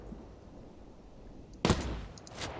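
One loud Zastava M93 sniper rifle shot in Ghost Recon Breakpoint, aimed above a vehicle's wheel well, bursts out sharply after a low hum, followed by faint clicks and a short echoing tail.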